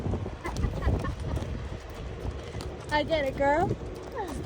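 Horse hooves clip-clop on the ground at the stockyards during a cattle drive, a steady moderate patter under a lively outdoor crowd, with people talking nearby.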